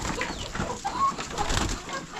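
Local kienyeji chickens cluck softly and intermittently in an outdoor yard, faint bird calls scattered over a steady background murmur with no talk.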